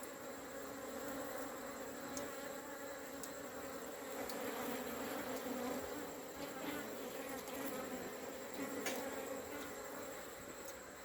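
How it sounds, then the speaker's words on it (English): Honey bees flying in to hive colonies during a kudzu nectar flow make a dense, continuous buzzing hum with occasional closer fly-bys, steady and fairly quiet throughout. "now you can see the bees coming in with that kudzu nectar in the belly"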